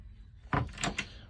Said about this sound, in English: a push button to release the cabinet under the sink